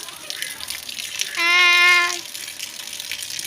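Water spilling indoors makes a steady splashing wash throughout, with a brief high tonal sound rising over it in the middle.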